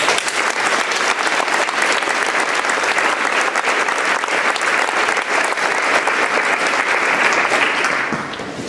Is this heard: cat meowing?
no